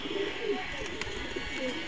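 Several pigeons coo steadily in a domestic loft, soft repeated throaty calls close by against a low background hum, with occasional faint chirps.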